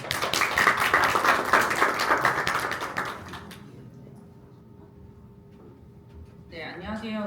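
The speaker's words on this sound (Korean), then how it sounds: "조혜진 선생님을 큰 박수로 맞아주시기 바랍니다" Audience at a seminar on virtual-reality teaching applauds to welcome a speaker, dense clapping that holds for about three seconds and then fades, leaving a quiet room before a voice begins speaking.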